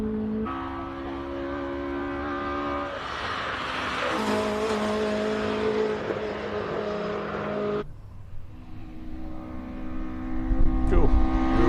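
A Datsun GX Coupe races up a hillclimb, its engine droning loud and steady, climbing in pitch and revving hard before dropping off and building again, with a closing rumble as it passes near.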